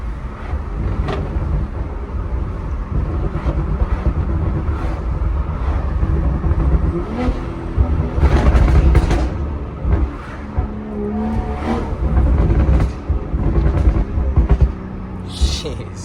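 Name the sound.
BMW M340i with Dinan valved exhaust accelerating in first gear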